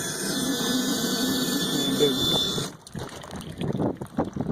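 A Yamaha outboard's trim unit, with air in it, tilts up with a strained whining squeal for under three seconds, then stops, leaving outdoor wind and rustling handling noise near the water.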